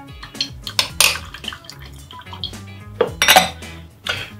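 Milk and cream are mixed in a bowl for a chocolate ganache, with repeated clinks and scrapes of a utensil against the bowl and light liquid sloshing, close and fairly loud, in uneven bursts.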